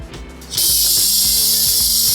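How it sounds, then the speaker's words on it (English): A can of carb cleaner sprays onto the contacts of a Porsche 914 relay board in a loud, steady, close hiss that starts suddenly and runs to the end. "Let's try carb cleaner."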